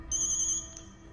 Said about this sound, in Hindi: मुत्तू का फोन है।